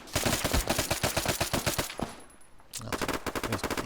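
Rapid bursts of suppressed VSS Vintorez rifle fire in ARMA 3, a steady string of close, sharp shots that pause briefly before firing resumes.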